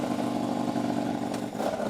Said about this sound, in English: Panigale is refired for Josh Herron as he looks down